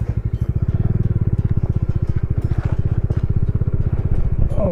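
A motorcycle rides off-road up the snowy mountain pass from Leh to Khardung La, its engine thumping in a rapid steady pulse, loud and close, with rough clattering over the track.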